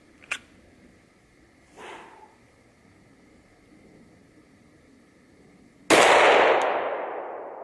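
A gunshot is followed a moment later by a faint distant ping of the bullet striking a steel target. A second softer hit sounds, then after a quiet pause a loud sharp report that decays slowly.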